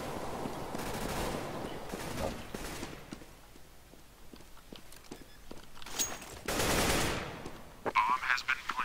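Decoy grenades in Counter-Strike rattle off bursts of fake automatic gunfire, loud clusters near the start and again toward the end with quieter stretches and footsteps between.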